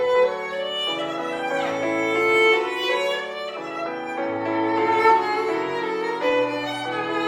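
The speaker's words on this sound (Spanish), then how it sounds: "El concierto de Tchaikovsky es una maravilla y suena así." A solo violin sings a flowing melody over a full orchestra, rich and continuous, in a recording of Tchaikovsky's Violin Concerto.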